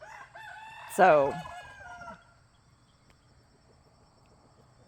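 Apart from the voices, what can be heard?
roosters crowing on a farm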